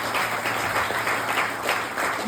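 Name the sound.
audience applause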